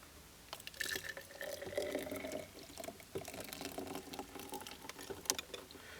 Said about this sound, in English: we're going to pour that into this glass